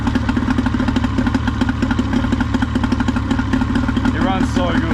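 Small outboard motor on a budget centre-console dinghy idles steadily after choke starts, a constant throbbing putter with mechanical clatter, with people talking over it.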